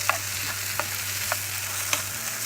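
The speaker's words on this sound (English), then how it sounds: "So then make sure everything fries good." Minced garlic frying in olive oil for Mexican rice: a steady, close sizzle with a few soft clinks of stirring, and no voices.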